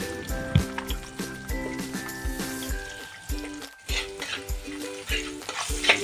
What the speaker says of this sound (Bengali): এবার কড়াইতে পরিমাণ মতন তেল দিয়ে সাথে তার মধ্যে কালো জিরে ফোড়ন, কাঁচা লঙ্কা আর কেটে রাখা পেঁয়াজগুলো দিয়ে ভালো মতো ভেজে নেওয়া হচ্ছে